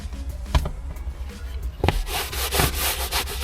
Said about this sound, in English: Very gentle scrub.